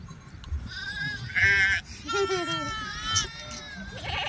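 Sheep in the flock that travels with a palanquin procession at a village gathering bleat close by in several overlapping cries, with a crowd murmuring and talking underneath.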